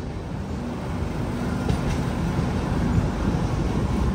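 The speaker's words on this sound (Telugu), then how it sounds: "WAP 7 లోకోమోటివ్ అయితే పుల్ చేస్తుంది మన హంసఫర్ ఎక్స్ప్రెస్ ని." A Humsafar Express train hauled by a WAP 7 locomotive rumbles past at close range, a loud continuous low roar of rolling wagons with no talk.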